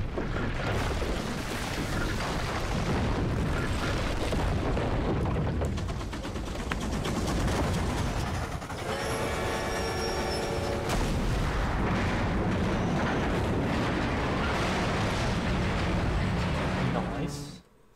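TNT blowing up after being shot in the PS2 Western shooter Gun, heard as a continuous roar of booming blasts and gunfire-like crackle that fills the whole stretch, with a voice talking over it.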